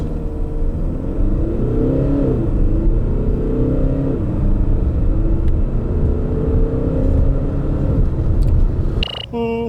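Hyundai Santa Fe TM 2.2 e-VGT diesel with 4WD, a 2018 model, accelerating hard, heard as a steady engine rumble and drone that climbs in pitch through the gears, with a clear shift dip about four seconds in.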